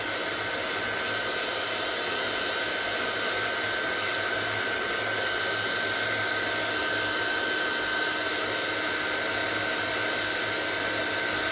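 A heat gun blows steadily to melt embossing powder on a handmade Christmas card, a constant loud hair-dryer-like roar with no break and no talking.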